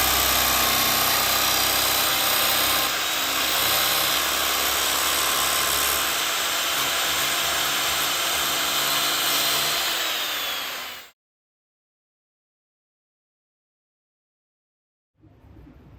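A small handheld power saw cuts legs for a bathtub, a loud continuous high-pitched whine with grinding texture that runs steadily, then stops abruptly into silence before a faint sound resumes at the end.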